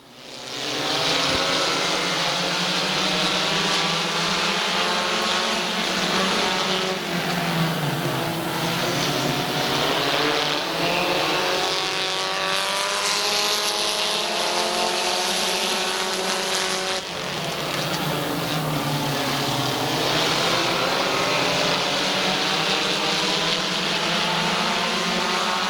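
Stock cars race on the Midvale Speedway oval in a feature event, their engines roaring in a loud, continuous wall of sound that rises and falls in pitch as the pack passes through the turns.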